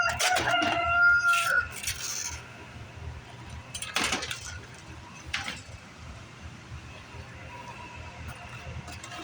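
A rooster crows near the start, followed by scattered clucking from chickens over a low rumbling background.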